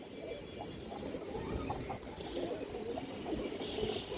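Pigeons coo softly at a market stall, low throaty murmurs rolling on and off beneath faint background noise, with no voices over them.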